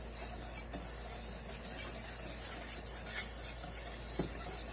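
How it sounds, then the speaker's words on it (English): Biscuit ingredients, including cane sugar, whisked together in a bowl, a steady close scraping and stirring rustle that runs continuously without talk. "Whisk it together."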